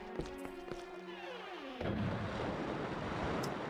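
A cannon fires in The Legend of Zelda: Twilight Princess. A sudden heavy blast breaks in after some quieter tonal sounds, then a broad rushing roar trails off and lasts to the end.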